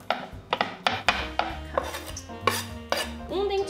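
A knife chops leafy greens finely on a cutting board, about a dozen sharp, close knocks in an uneven quick rhythm, with a faint clatter near the end and no voices.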